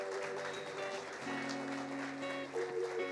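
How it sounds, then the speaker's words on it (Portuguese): A congregation applauds during an Easter church service, a steady, soft patter of many hands over sustained musical tones. "Uma salva de palmas para eles"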